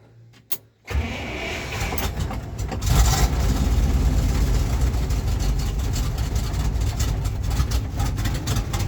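Cold GAZ-53 truck engine started without choke: a brief cranking stutter, then it catches and settles into a loud, steady rough idle with a slight rise in revs.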